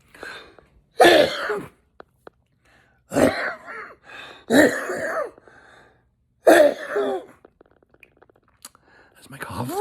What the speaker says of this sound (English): that's my cough.